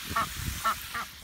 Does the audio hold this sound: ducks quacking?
yes